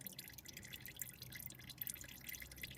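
Motor oil dripping steadily from a sideways-mounted oil filter on a 2020 Toyota Corolla XSE during a winter oil change, a faint, continuous patter of drips with no talking.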